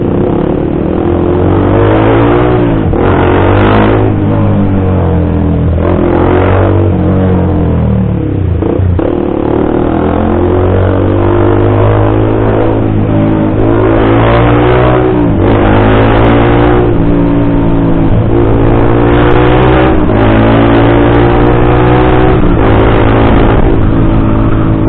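A Honda CBR 150R motorcycle engine with a remapped ECU, revving loud and close throughout, its pitch rising and falling over repeated throttle blips with no talking.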